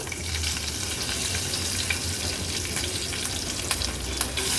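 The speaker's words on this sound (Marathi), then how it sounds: "राई घालते अर्धा चमचा अर्धा चमचा जिरं कढीपत्त्याची पानं" Mustard seeds, cumin and curry leaves crackle and sizzle in hot oil for a tempering, a dense, loud, continuous frying hiss with scattered sharp pops and spits, close up.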